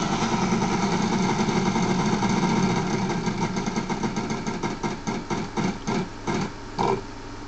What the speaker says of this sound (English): Spin the wheel.